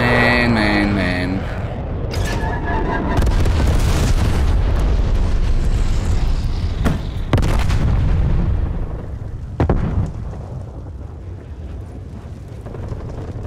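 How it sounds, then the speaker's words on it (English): A napalm strike in the multiplayer mode of Call of Duty: Black Ops Cold War, a long run of loud, rumbling explosions with sharp crashes and bursts of gunfire, and brief talk near the start. "Enemy napalm strike inbound."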